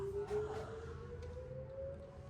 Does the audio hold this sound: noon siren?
yes